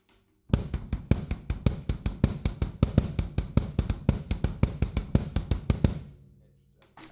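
Drum kit double kick pattern with accented notes: a rapid, steady run of bass drum strokes with louder accents mixed in, close and alone for about five seconds before stopping.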